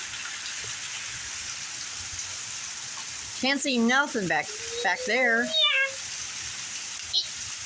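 Heavy thunderstorm rain pours in a dense, steady hiss, with a person speaking briefly partway through over the downpour.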